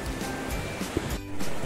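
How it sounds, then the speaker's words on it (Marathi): Waves wash onto Murud beach in a continuous close rushing surge that swells slightly toward the end, with no talk over it. "हे बघा हे पाणी कसं पुढे पुढे येत आहे या लाटा आणि त्या लाटा जसे जसे जसे पुढे येतात"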